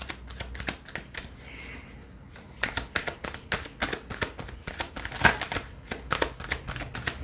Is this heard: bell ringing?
no